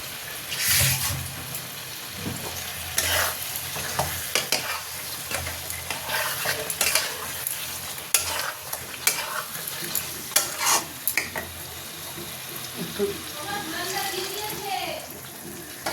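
Chicken pieces stir-fried in a pan for malai chicken, with loud bursts of sizzling, repeated spatula scraping and stirring, and occasional splashy water-like sounds.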